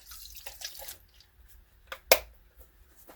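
Soapy water with dish detergent and isopropyl alcohol is stirred in a container, giving a few soft sloshes and one sharper splash near the end, quiet and close with no voices.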